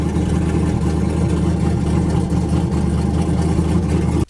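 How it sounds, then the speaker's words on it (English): A twin-turbo street car engine on a cold start runs with a loud, steady, rumbling idle and no breaks, then cuts off abruptly at the end. "Let's just see if it'll cold start."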